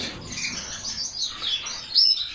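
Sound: birds chirping

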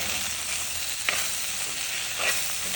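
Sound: stirring ivy gourd stir-fry in pan after opening lid

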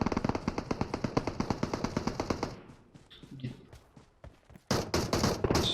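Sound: gunfire in PUBG Mobile video game

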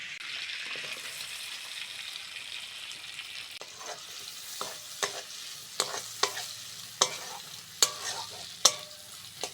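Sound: chopped onion frying in oil

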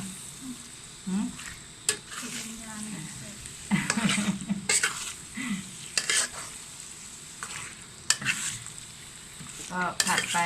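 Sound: stir-frying chicken in a wok

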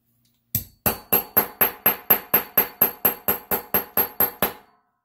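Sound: hammering a hole punch through thick nitrile gasket material

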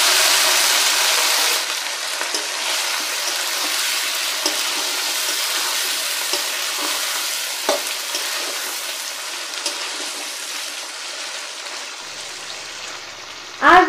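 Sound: chopped onions frying in oil in a pan

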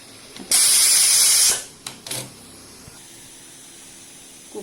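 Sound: pressure cooker steam release

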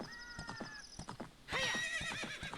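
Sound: horse neighing and galloping in the video game Zelda: Ocarina of Time

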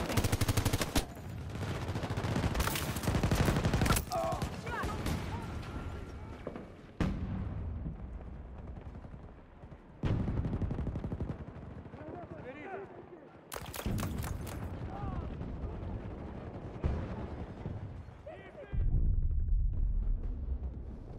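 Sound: automatic turret gunfire in Battlefield 2042 video game

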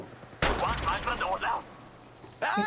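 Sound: gunfire in the video game Apex Legends Mobile

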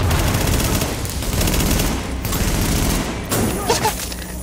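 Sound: gunfire in the video game The Division

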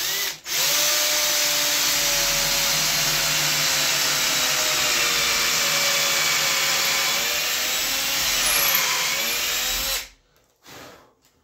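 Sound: drilling a hole in white oak stock

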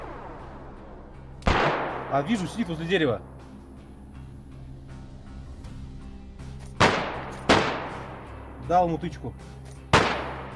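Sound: gunshots in DayZ video game

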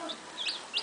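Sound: hen clucking

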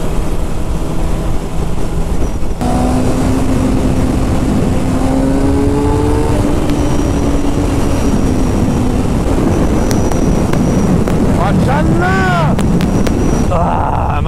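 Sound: wind blowing during a motorcycle ride

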